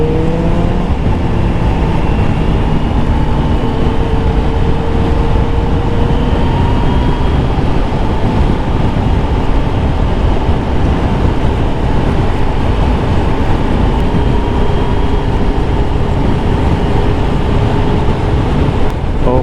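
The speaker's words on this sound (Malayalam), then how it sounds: "നല്ല സൗണ്ട് കേട്ടോ ജിക്സർ 750യുടെ" A Suzuki Gixxer 750 motorcycle engine on a mountain road during a group ride, heard as a loud, close, continuous roar mixed with heavy wind rush and a few shifting engine tones.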